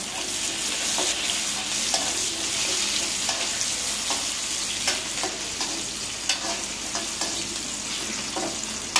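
Onions frying in a pan with a pinch of salt, a constant close sizzle punctuated by repeated light scraping stirs at irregular intervals, with no voices over it.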